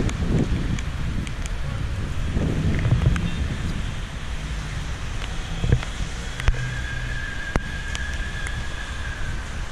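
Squall wind during a hurricane in Ulyanovsk roars steadily into the microphone for about ten seconds, heaviest in the first few seconds, with scattered knocks and a faint tonal whine later on.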